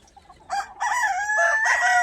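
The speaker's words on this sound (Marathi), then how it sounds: "देशी कोंबड्या" A desi (native breed) rooster crows nearby on a farm in a loud, stretched call broken into bursts, after a couple of soft clucks; no talking.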